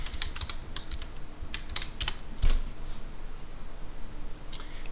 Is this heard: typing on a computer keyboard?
yes